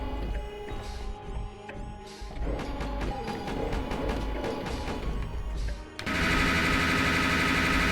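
Rapid automatic gunfire and crashing impacts in the Robocop Aratanaru Kiki video game, dense bursts of shots over busy game sound, ending in a loud sustained blast of noise.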